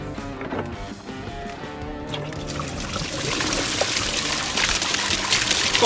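Water draining from the engine of a Peugeot Expert van during a water pump and timing belt job, a trickle that builds into a heavier, steady splashing flow.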